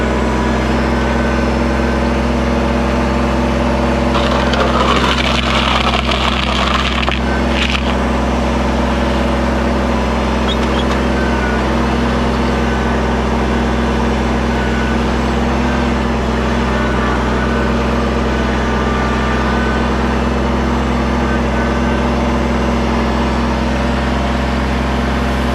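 Engine-driven plate compactor working a four-inch layer of quarter-inch gravel for a small patio base, a loud, steady drone running unbroken throughout with a brief scraping burst early on.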